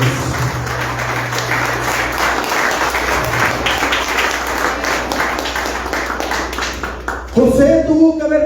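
Loud, sustained applause from a church congregation fills the space for several seconds, with voices talking over it, before a speaking voice takes over near the end.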